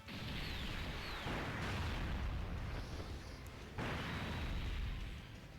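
Gotenks's active skill attack in Dokkan Battle unleashes a series of loud booming blasts and crackling bursts, surging in waves with sharp hits between.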